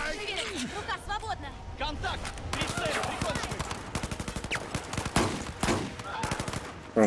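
Gunfire erupts in the Battlefield 4 singleplayer Singapore mission: rapid bursts of automatic fire and single shots, loud and close, mixed with shouted voices and chaotic battle noise.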